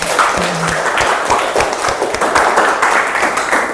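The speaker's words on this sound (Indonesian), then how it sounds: "Tepuk tangan untuk semuanya." Students in a classroom clap together loudly and close by, a lively patter of many hands with some distinct sharp slaps and thuds standing out from the crowd.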